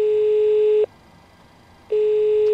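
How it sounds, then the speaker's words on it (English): Intercom ring tone in a PMDG 737 flight simulator cockpit: two steady electronic ringing bursts, each lasting nearly a second, separated by about a second of near silence, clear and close with no voices. "click the microphone, which will start the intercom ringing"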